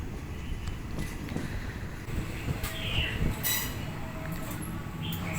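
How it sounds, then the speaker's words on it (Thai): Express train no. 86 rolls slowly out of Nakhon Si Thammarat station in Thailand, heard from on board. A steady rumble of wheels and carriages carries throughout, with faint squeals and clanks rising over it. "ตอนนี้รถด่วนขบวนที่ 86 กำลังเคลื่อนตัวออกจากสถานีนครศรีธรรมราช"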